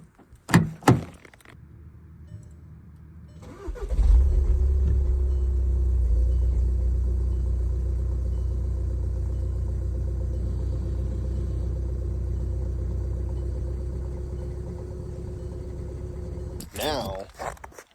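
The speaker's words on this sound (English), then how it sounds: "Today we're doing a cold start with completely stock" A completely stock Mk6 TDI diesel engine cold-starts after a few clunks, then settles into a deep, steady low rumble at idle that runs until more clunks near the end.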